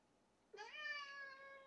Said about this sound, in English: And the good thing is, my cat's nearby.